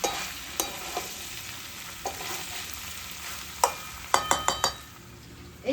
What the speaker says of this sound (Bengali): মাংসটাকে দিয়ে আমি নেড়েচেড়ে ভালো করে মিশিয়ে দেব মশলার সাথে।